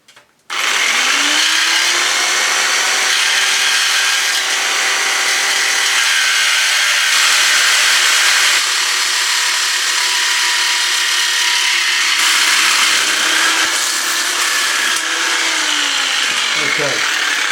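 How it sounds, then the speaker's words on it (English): Jigsaw cutting through wood in a garage workshop, a loud continuous buzzing cut running steadily for the whole stretch after a brief start, with the pitch shifting slightly near the end as the blade finishes. "Okay, jigsaw endeth. The jigsaw endeth."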